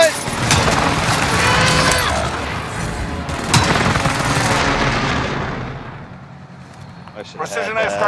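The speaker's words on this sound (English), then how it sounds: "Precision airstrike missed." Precision airstrike explosions in a military video game roll in as heavy, booming blasts with rumbling tails that fade out, then a voice speaks near the end.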